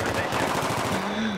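Rapid automatic gunfire from the Battlefield 3 video game, a dense stream of repeated shots firing in quick succession, loud and close, with a voice briefly underneath.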